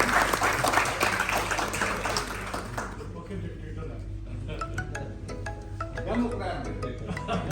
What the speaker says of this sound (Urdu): تالیاں ضرور ہوں.